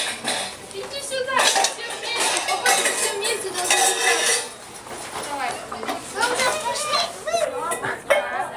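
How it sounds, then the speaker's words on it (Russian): Dishes and cutlery clink and rattle as a group unpacks their own tableware from backpacks for a meal on a family trip to Irkutsk, with children and adults chattering in Russian over the clatter throughout. "Посуду вашу достаем."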